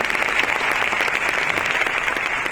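Loud, steady applause from a large audience fills a meeting hall in Patna, a continuous clapping roar with no voices on top.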